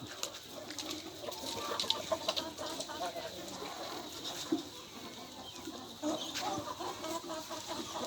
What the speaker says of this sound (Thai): นี่คือไก่พ่อพันธุ์แม่พันธุ์ของฟาร์ม